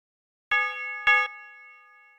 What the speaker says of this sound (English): I'm gonna add this bell right here.